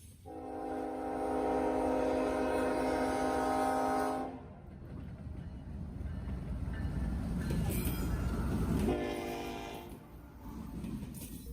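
A Norfolk Southern freight train passes with locomotive 1065 leading. A long horn blast sounds first, then the wheels rumble steadily, and a second horn blast follows, loud and outdoors.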